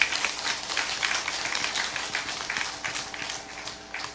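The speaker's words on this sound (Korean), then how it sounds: "박수는 이때 치는 거요" Audience clapping at a Buddhist dharma talk in a temple hall, steady dense applause from a gathered crowd lasting throughout, moderately loud with no clear pauses.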